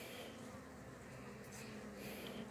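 Honeybees in a newly installed hive drone softly during an inspection, a faint, continuous buzzing close by with no pauses.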